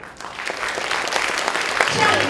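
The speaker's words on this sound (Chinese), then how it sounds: "让我们以热烈的掌声欢迎恒耀欢欣企业吴荣斌董事长" An audience at a formal event with invited guests claps warmly to welcome a company chairman, dense continuous applause building slightly toward the end.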